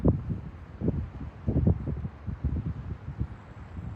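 Gusty wind buffets a microphone outdoors, with low rumbling surges rising and falling over several seconds.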